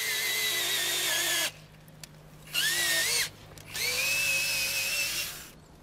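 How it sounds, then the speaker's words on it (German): A power drill whines at high speed in three separate bursts, its pitch dipping under load as it bores into a living tree for a treehouse, with short pauses between. "direkt in den lebendigen Baum zu bohren, für den Baum ist das die schonendste Art"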